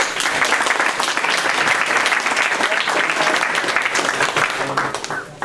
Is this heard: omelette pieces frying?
no